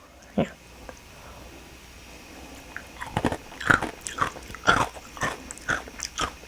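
Close, crunchy bites and chewing of a convenience-store yogurt snack mixed with Mitz cereal, faint at first and then a run of repeated crisp crunches in the second half, with no talking.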